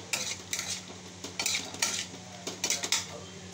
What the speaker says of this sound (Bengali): ভেজে তুলে রাখা আলুগুলো দিয়ে দিলাম, দিয়ে মশলার সাথে ভালো করে মিশিয়ে নিচ্ছি